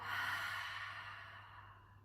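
In a live yoga class, one person lets out a long, breathy half lion's breath exhale, a soft hissing sigh close by that slowly fades.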